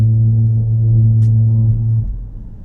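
Steady low droning hum of car tires rolling over the steel grate deck of the St. Clair Street Singing Bridge in Frankfort, Kentucky, loud and continuous from inside the vehicle, easing off near the end.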